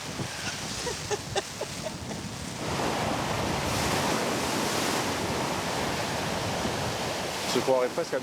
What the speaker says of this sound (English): It's like Biarritz with these waves.